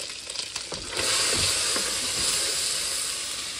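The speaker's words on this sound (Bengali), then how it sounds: "এখানে হালকা একটু ফ্রাই করে নিলাম।" Fish heads fry in a pan of curry on a home stove, giving a steady loud sizzle and hiss with faint stirring scrapes and a few soft knocks at the start.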